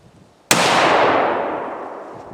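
A Ruger American Ranch rifle firing a single 5.56 NATO round outdoors, one loud sharp crack followed by a long echoing roll that slowly fades.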